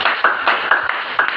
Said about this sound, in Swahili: Pigia Yesu makofi.